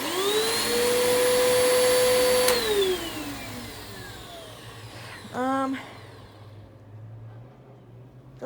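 A Bissell Power Force bagless vacuum cleaner, model 6583, whines loudly for a couple of seconds, then its motor winds down and fades, leaving a low hum and a brief chirping squeak.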